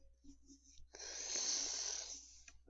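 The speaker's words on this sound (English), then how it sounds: "Sorry for the yawn" A single long human yawn, a breathy, drawn-out exhale lasting over a second, rising and fading, close and clear with faint voice sounds just before it.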